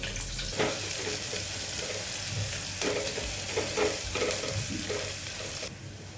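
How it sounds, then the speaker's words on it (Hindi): Sliced onion sizzling and frying in a pan, with stirring scrapes and clatter over a constant hiss; no talking. "आधी मिनट के बाद हम उसमें 1 छोटी प्याज डाल देंगे, इस तरह से स्लाइस करके।"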